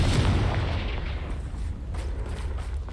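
Confringo spell blast in Hogwarts Legacy, a deep rumbling boom that rolls out and fades slowly into a low, sustained roar, with a few faint crackles toward the end.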